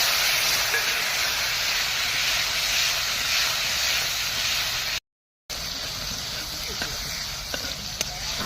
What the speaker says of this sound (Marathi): टोमॅटो आता छान फ्राय झालेले